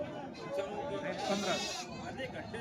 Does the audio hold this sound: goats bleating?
yes